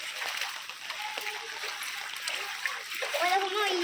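Feet splash and slosh through rain flood water covering a street, a steady wet churning with soft gurgles, while voices talk over it.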